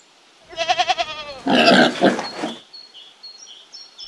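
Free-grazing goats on an organic farm bleat loudly and close by, one wavering quavering call followed by a harsher, longer bleat, with faint bird chirps after.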